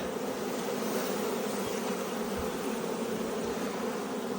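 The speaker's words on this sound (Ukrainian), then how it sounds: "Аж там стільки бджоли." A dense, continuous hum of many bees buzzing loudly and close around full hives, steady throughout with no pauses.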